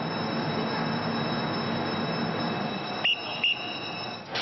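A train at Paris Gare du Nord during rush hour sends out a loud, continuous metallic wheel squeal over a dense rumble, followed by two short electronic tones near the end.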